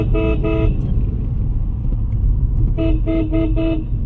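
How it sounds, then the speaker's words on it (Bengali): A car grinding uphill in second gear on a foggy mountain road between Lingtham and Pelling, its engine rumbling steadily and close, broken by two sets of short, quick horn toots at the start and near the end. "দুই নম্বর গিয়ার দিয়ে গাড়ি তুলছি উপর দিকে"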